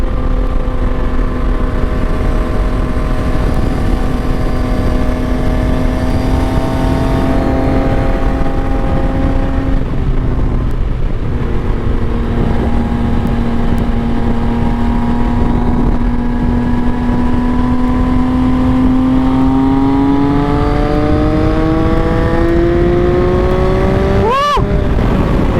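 A 2024 Yamaha XSR 900 motorcycle engine drones steadily while riding, its pitch rising and falling as the bike accelerates and shifts gears. It is loud and close throughout, with a brief sharp whine near the end.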